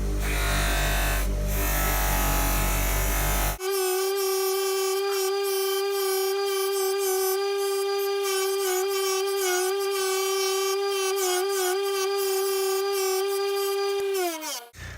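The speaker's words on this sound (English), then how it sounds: "turning on the polishing machine." Loud broadband noise gives way to a polishing machine buffing a brass whistle made from .300 Win cases, running with a steady, loud motor hum that holds unchanged for about ten seconds before cutting off.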